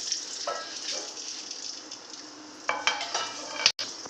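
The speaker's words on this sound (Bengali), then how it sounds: "তেলের মধ্যে তেজপাতা ফোড়ন দিয়ে দিলাম দেখতে দেখতে করব এলাচ দারচিনি লবঙ্গ সব ফোড়ন দিয়ে দিলাম" Bay leaf, cardamom, cinnamon and cloves sizzle in hot oil, with a steady faint crackle broken by a few louder spoon stirs and scrapes against the pan near the end.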